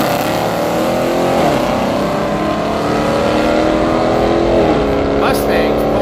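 Mustang drag racing at Yello Belly Dragstrip, engines roaring loud and steady with rising revs as the cars run down the strip, voices talking over the noise.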